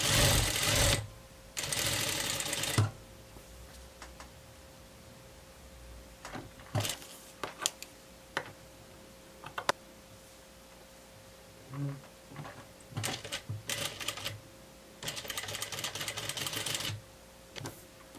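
Sewing machine stitching the front of a blouse at the shoulders in a dressmaking atelier, with several short bursts of fast, steady stitching separated by quiet pauses and light handling clicks.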